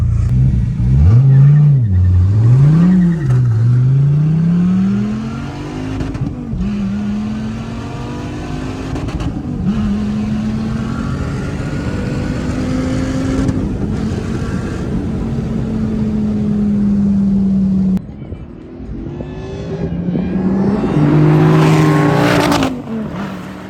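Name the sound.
Dodge Viper ACR V10 accelerating in drag race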